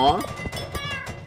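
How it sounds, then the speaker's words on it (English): A short cartoon-style cat meow from an animated stick-figure short, heard once clearly near the start, with people talking over the rest. "The cat playing with yarn."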